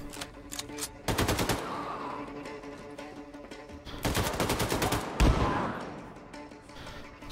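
Gunfire from the game Wolfenstein II: The New Colossus comes as loud, close bursts of rapid automatic shots, separated by stretches of softer scattered fire and background game noise.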